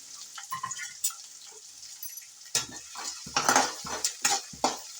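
Small onions, curry leaves and six to eight green chillies fry in generous oil in a pan for spicy avalakki, a soft sizzle broken by repeated clattering spatula scrapes and knocks against the metal.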